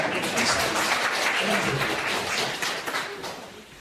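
Congregation in a Baptist church service clapping together, a steady burst of applause for a few seconds that tapers off slightly at the end.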